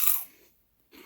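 Turtle chips, a crunchy snack, bitten into once up close, giving a sharp crisp crunch at the start that fades into near silence before a faint rustle.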